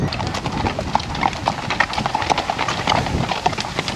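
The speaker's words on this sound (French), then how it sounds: "Ah, là, il y a des chevaux qui arrivent." Horses arrive outdoors on a holiday road trip, their hooves clip-clopping in a busy, overlapping patter, close and fairly loud, with a faint whinny and some background chatter.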